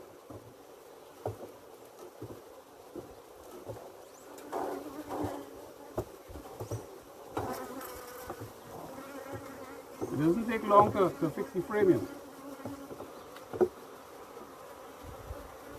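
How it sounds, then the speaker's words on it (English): Honey bees buzzing around an open beehive during a frame inspection, a close, continuous hum that swells and fades as bees fly past, with someone talking and occasional handling noises. "right now, all these bees are just keeping an eye on me"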